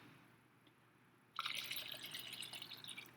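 Water poured into a blender jar holding watermelon and sugar for agua fresca, a near splashing stream that starts abruptly after a quiet moment and continues bubbling to the end.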